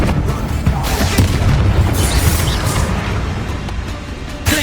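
Fiery blasts and booms from a Confringo spell in Hogwarts Legacy during a combat encounter, several dense loud bursts in quick succession with crackling debris, close and continuous.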